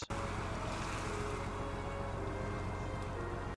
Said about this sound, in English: Very calming waves, if somewhat noisy.